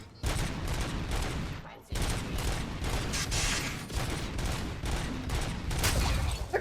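Repeated automatic gunfire in the Robocop: Rogue City video game, a three-round burst weapon firing loud, dense volleys that run almost without pause, with a short break near two seconds before the shooting resumes.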